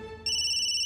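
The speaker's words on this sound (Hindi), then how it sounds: "किसका फोन है?" A phone ringtone starts abruptly and rings on as a clear, steady electronic tone, close and alone.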